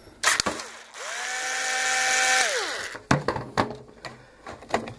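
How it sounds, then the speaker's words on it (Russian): Small tool work on a screw during repair of an oven that will not switch modes, with a sharp clack, a steady rising-and-falling whir lasting about two seconds, then several loud knocks and clicks close by. "Чтобы открутить, нужно вот этот винтик открутить."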